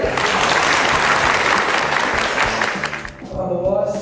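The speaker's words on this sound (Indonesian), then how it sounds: "Beri tepuk tangan yang meriah." An audience at a formal ceremony with military guests breaks into sustained, dense applause that fades near the end as a voice begins speaking.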